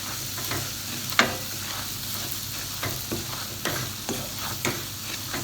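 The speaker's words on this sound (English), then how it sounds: "I will add the Suji and just stir it" Semolina (suji) is stirred in ghee for halwa over a low-to-medium flame, with a gentle continuous sizzle and soft scraping stir strokes recurring every second or so, close by.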